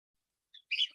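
A bird gives a brief chirp, then a longer, brighter tweet, faint and heard alone against silence.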